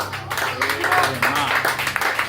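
Loud, sustained clapping from a church congregation, steady and dense, with voices and cheering mixed in throughout.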